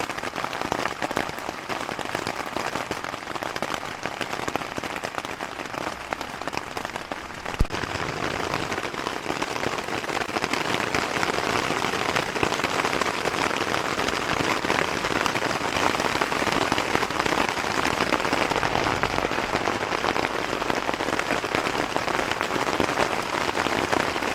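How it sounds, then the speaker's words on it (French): Steady, dense patter of rain drumming on a taut tent fabric close by, continuous and even throughout with no voices. "j'adore quand il pleut, je suis dans ma tente au chaud."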